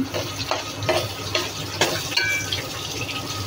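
Onion with turmeric, chilli powder and salt frying in a pan gives a steady close sizzle, with soft stirring scrapes and faint clinks running through it.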